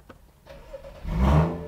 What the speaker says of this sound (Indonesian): Suaranya definitely lebih keras dari standarnya. Jadi ini knalpotnya sudah diganti.